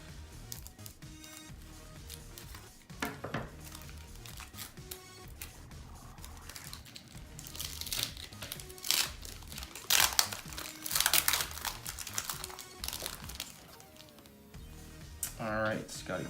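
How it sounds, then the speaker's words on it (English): Plastic wrapper of a 1995-96 Topps basketball card pack cut open with scissors, crinkling and rustling up close with sharp crunchy bursts, while someone talks over it. "this one needs some scissors again"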